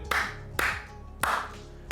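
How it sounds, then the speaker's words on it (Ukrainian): Hand clapping from a seated person, three sharp claps spaced roughly half a second apart, close and fairly loud with no voices. "Я просто аплодую, сидячи цьому піку"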